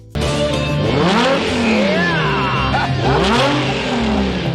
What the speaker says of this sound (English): That iconic roaring engine sound you hear when Crockett's Testarossa accelerates